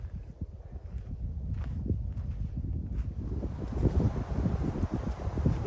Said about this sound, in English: The wind is definitely coming off the lake.